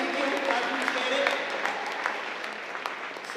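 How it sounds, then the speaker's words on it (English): An audience claps steadily throughout after a presenter is introduced, a dense indoor round of applause at moderate loudness. "So please give Anthony your round of applause and your attention."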